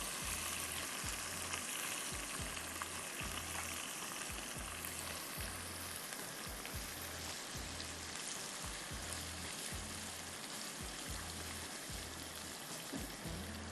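Curry leaves sizzle in hot oil while fish is being fried, giving a loud, steady crackling hiss close by with no talking.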